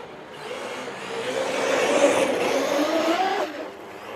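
A Traxxas RC car accelerates on a slick grass field. Its electric motor gives a buzzing whine that rises and holds for a few seconds, then cuts off, heard fairly close with no talking.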